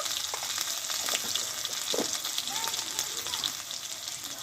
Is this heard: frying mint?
yes